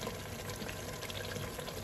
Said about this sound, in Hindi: ये अब हम इसमें पानी डाल देंगे